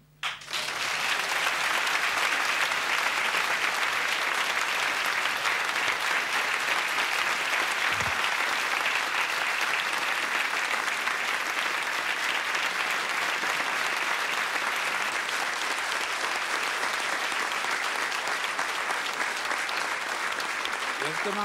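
Audience applauding the Czech writer Jaroslav Foglar, a dense, steady wash of clapping from a large crowd that starts abruptly and holds at full strength for about twenty seconds.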